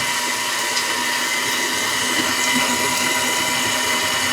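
Stand mixer fitted with a beater blade and pouring shield creaming butter with brown and white sugar, a steady close motor whir with a continuous churning hum, no voices.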